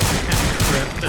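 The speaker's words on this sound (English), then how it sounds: "That's a big turret." A large turret opens fire in Fallout 4, a loud dense burst of rapid gunfire packed into about a second, close and overwhelming, with no speech over it.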